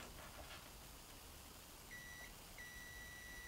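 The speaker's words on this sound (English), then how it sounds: "It is having a very sharp continuous sound, so no ripple effect in the intensity of the sound there as in cheap multimeters." A Kaiweets HT118A multimeter's continuity buzzer gives two steady, sharp electronic beeps, a short one then a longer one, over a quiet background hiss.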